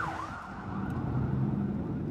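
An emergency siren wails on a street in Beirut after bombings, its pitch sweeping up and down over traffic rumble.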